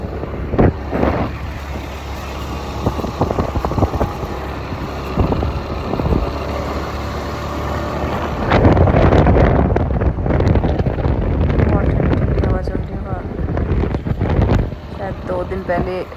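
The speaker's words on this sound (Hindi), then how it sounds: "इतनी ठंडी हवा चल रही थी।" Cold wind buffeting a microphone while riding a scooter on a chilly morning after light rain, a steady low roar with gusts that swell louder in the second half.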